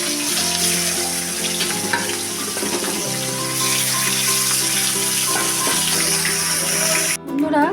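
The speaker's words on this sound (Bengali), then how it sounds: "এবার মাছগুলোকে আমি ভেজে নেব হালকা করে" Fresh fish pieces coated in salt and turmeric fry lightly in oil in a wok, producing a loud, dense sizzle and spatter throughout with tonal hum underneath, cutting off abruptly near the end.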